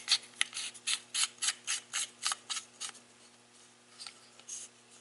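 A nut is being tightened on a rifle's tube as a spring goes in, giving a rapid series of small, close mechanical clicks and scrapes that thin out toward the end.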